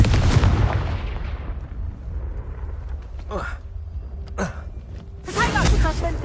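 Blasting spell explosions in Hogwarts Legacy on PS5, several bursts and booms layered with game effects, loud at the start and end with sharp crackling hits in between.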